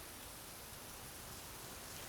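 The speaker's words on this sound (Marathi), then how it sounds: "पाणी किती पडतंय. आणि मी मला जायचं त्या साईडला मी जाऊ शकत नाही कारण की पाऊसच एवढा येतोय" Steady, dense hiss of heavy rain pouring down, constant and enveloping with no breaks, fairly quiet overall.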